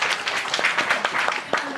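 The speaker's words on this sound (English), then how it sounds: "Let's give them a round of applause" Brief round of applause for a group called the Blue Rebels, scattered close claps with a voice talking over them.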